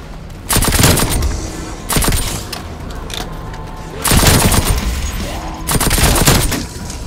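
Nail gun firing in Call of Duty: Black Ops Cold War, loud rapid bursts repeated several times with short gaps between them, close and dominant over faint background game sound.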